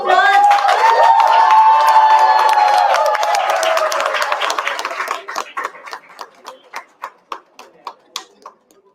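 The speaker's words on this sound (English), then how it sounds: "Round of applause. Round of applause." An audience gives a round of applause at a college event, loud dense clapping with cheering that fades over several seconds into a few scattered, isolated claps.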